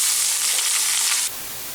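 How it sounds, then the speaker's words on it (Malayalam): Chopped onions dropped into hot ghee for ghee rice, a loud close sizzle and hiss that drops abruptly to a quieter simmer after about a second. "അരിഞ്ഞ് വെച്ചിരിക്കുന്ന സവാള കൂടി ഇതിലേക്ക് ഇട്ട് ഫ്രൈ ആയിട്ടെടുക്കാം."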